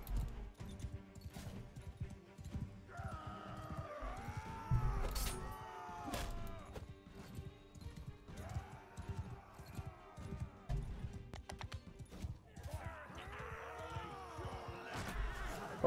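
Horse hooves clattering in Mount & Blade II: Bannerlord, a fight against looters: irregular clip-clop hoof beats mixed with swishing and clashing game effects, at moderate loudness.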